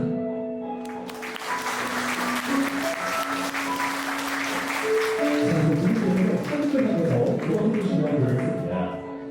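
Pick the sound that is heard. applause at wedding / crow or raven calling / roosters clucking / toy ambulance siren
applause at wedding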